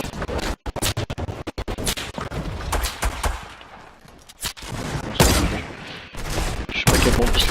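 Bursts of P90 gunfire in Fortnite come in rapid, loud, close volleys broken by short gaps, with scratchy game noise between shots.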